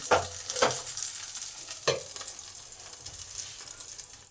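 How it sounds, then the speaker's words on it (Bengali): Eggplant pieces frying in oil in a covered pan, a loud, continuous sizzle with a few sharp crackling bursts near the start, heard alone. "বাকি বেগুনগুলোকে ভেজে নেব আবার পাঁচ মিনিটের জন্য চাপা দিয়ে দিই যাতে বেগুনগুলো ভালোভাবে ভাজা হবে"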